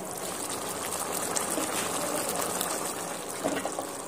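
Rui fish curry broth bubbling in an uncovered pan, a steady close wash of simmering and popping with a slightly louder bubble near the end.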